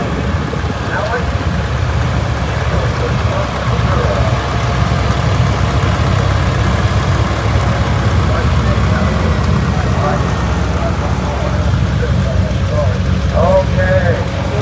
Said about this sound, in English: This is a 1967 Oliver